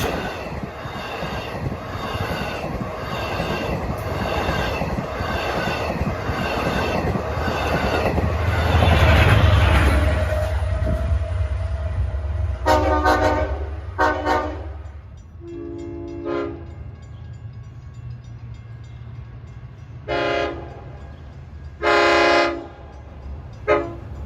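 Long Island Rail Road DM30AC diesel locomotive passes loudly with steady rumble and rail noise, then sounds its horn in several distinct blasts, the last ones long, with the train still rolling in the background.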